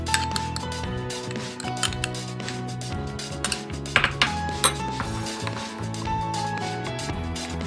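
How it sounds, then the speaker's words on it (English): A spoon clinks and scrapes around a bowl while stirring thick raw vegan brownie batter, with irregular close taps and knocks over a background of soft music. "Add the wet mixture to the dry mixture and stir until you have a thick batter."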